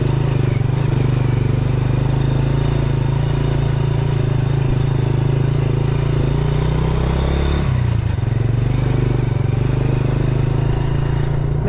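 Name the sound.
motorcycle engine on a rough road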